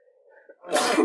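A single sharp sneeze bursts out after a brief soft intake of breath, close and fairly quiet.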